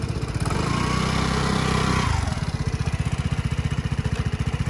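A scooter engine runs steadily, then its note drops into a low, even idle chug as the rider practises stopping at low speed with just the front brake; nearby and moderately loud throughout.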